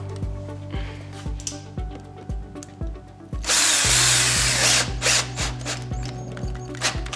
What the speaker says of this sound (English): screw off one side, then I come to the other side